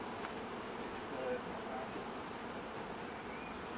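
Honey bees swarm and buzz around an opened hive during an urban hive split on an overcast day, a steady soft drone at moderate distance with faint rustling throughout.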